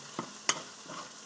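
A spoon stirs ketchup into canned corned beef in a hot pan, giving a couple of brief scraping strokes over a steady low sizzle, close and fairly quiet.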